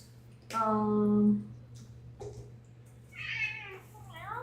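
A pet cat meows close by: one long, loud, drawn-out meow, then a pause and a couple of shorter meows, over a low steady hum.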